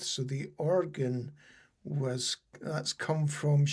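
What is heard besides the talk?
No everyday noises stand out.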